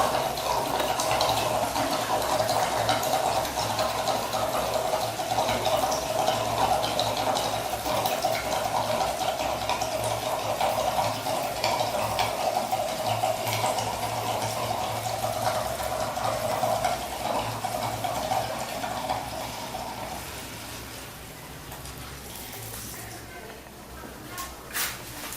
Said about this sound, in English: I can turn it up like this and exit the fuel because it breathes right through this neck